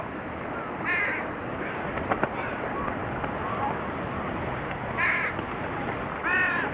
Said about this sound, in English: A crow flies up and drops a clam like a bomb onto the rocks.